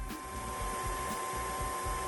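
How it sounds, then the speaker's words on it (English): Steady, even whooshing of fans drying a resin 3D print, a soft continuous drone like a quiet hair dryer with a faint hum underneath. "It sounds a bit like a hairdryer, but much quieter."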